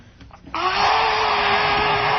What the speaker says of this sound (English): Just vacuuming, making sure everything's just so.